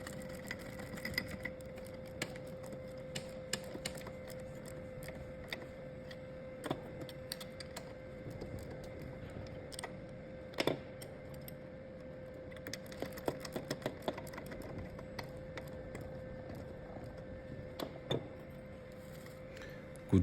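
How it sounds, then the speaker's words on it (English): A ratchet spanner clicks in quick, light bursts while a TESK submersible water pump is installed, the clicks sitting over a steady low hum at moderate distance with no talk. "Richie is the ratchet spanner."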